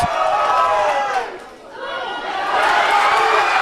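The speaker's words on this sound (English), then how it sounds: "You might be able to tell from the noise that it's the Newport crowd that's sitting in front of us." Crowd noise from spectators at a boys' high school soccer match, a steady roar of voices and cheering that dips briefly midway, then swells back to full volume.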